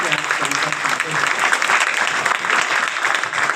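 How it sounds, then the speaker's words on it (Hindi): Loud, sustained audience applause for poets at a poetry gathering, many hands clapping densely and evenly throughout, with a voice briefly audible at the start. "जरा जोरदार तालियां बजाकर इन कवियों को बताइए कि आप सभी सब सुनते हैं।"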